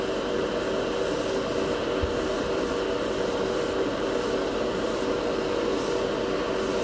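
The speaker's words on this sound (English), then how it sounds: "I find this airbrush great for these thicker paints." An airbrush sprays thick Turbo Dork color shift paint in a constant, close hiss that runs unbroken throughout, with faint rhythmic flutters in the spray.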